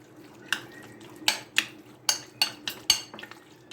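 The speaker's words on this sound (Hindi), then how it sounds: "फिर आपने अच्छी तरह इसको मिक्स कर लेना है।" Chicken pieces being mixed with spices and cornflour in a bowl, a series of about eight distinct wet clacks and scrapes of a spoon against the bowl in an uneven rhythm, close and unaccompanied by speech.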